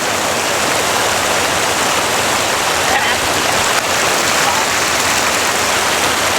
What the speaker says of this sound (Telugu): ఇక్కడ వాటర్ అన్ని ఫ్లో అవుతున్నాయి